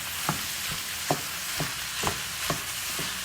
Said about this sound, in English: So now we're gonna add our ground beef. You can go ahead and start breaking that up.